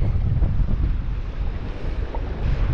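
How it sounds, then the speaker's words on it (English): A strong gust of wind beside a mountain river, roaring continuously into the microphone with heavy low rumble and buffeting, loud and close, no voices. "Try to play the wind gust here"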